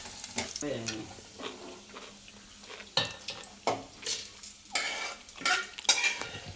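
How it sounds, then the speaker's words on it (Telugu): Dry red chillies fried and stirred in a pan, irregular scraping stirs and clatter over a light sizzle, close and fairly quiet, with a voice speaking intermittently. "ఎండుమిరపకాయలు ఇట్లా గోలించుకోవాలి సన్నగా దూరగా గోలాలి"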